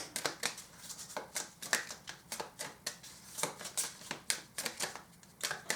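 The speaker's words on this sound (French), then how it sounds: "Je vais tirer 3 cartes." Tarot cards are shuffled and drawn by hand, giving quick, close, irregular papery flicks and riffles in bursts with short pauses between, with no talking.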